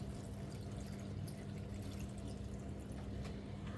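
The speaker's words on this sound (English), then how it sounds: "we're going to add about, I don't know, I guess a gallon of water" Water pouring into a cooking pot holding a ham hock for collard greens, a continuous quiet gushing splash that runs without a break, low in level and fairly close.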